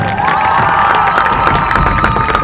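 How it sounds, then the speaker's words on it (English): Crowd cheering and applause for seniors at a women's varsity flag football senior night, Rocklin vs Oak Ridge; dense, steady shouting with whistles and high voices rising above continuous clapping throughout. "let's give one more huge round of applause for all of our amazing seniors, Maddie Letourneau, Rachel Groff"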